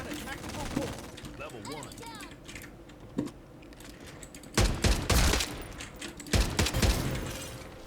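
Gunfire in a Farlight 84 ranked trio match, bursts of automatic shots around the middle and end, with someone talking over game sounds and clicking keys.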